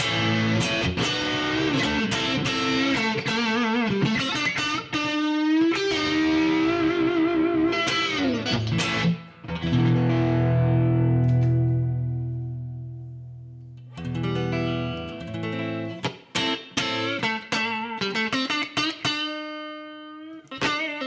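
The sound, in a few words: electric guitar through overdrive pedal and amp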